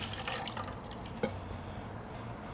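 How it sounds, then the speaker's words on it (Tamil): Water poured into a mixer jar to rinse it, a faint soft trickle and splash with one brief clink midway, quiet and without voices. "இந்த மிக்சியில் நான் கொஞ்சம் தண்ணி ஊற்றி அதை நல்லா அலசி"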